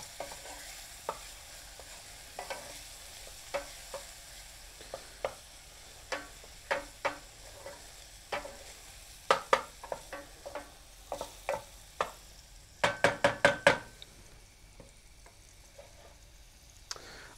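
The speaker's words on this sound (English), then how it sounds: "All right, our onions have begun to sweat." Chopped onions for rice pilaf sweat gently in a pan with a soft, faint sizzle, punctuated by sharp spoon taps and stirring clacks, including a quick burst of rapid knocks near the end.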